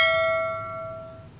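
A notification bell chimes once with a bright, clear metallic ding that rings out and fades away over about a second.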